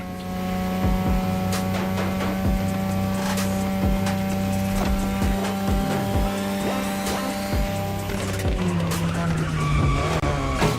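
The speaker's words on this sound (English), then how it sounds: "Tonight, your ride is a 3rd Gen 2002 Mazda RX-7. Lightweight, compact, a sick rotary engine, and one hell of a look." A 2002 third-generation Mazda RX-7 with a rotary engine races in The Crew Motorfest, its engine droning loudly and steadily with shifting pitch, while tires squeal repeatedly throughout.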